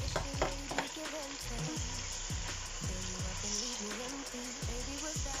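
Pepper sauce frying in a pot with locust bean and onion for efo riro: steady crackling sizzle with repeated stirring scrapes throughout, close and fairly quiet, no talking.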